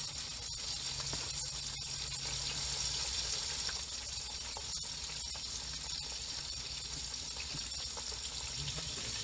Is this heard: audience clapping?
no